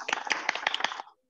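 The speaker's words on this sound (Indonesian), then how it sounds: "Beri tepuk tangan dulu" A small audience at an education talk show claps briefly, a quick, uneven patter of individual hand claps close by that fades out after about a second.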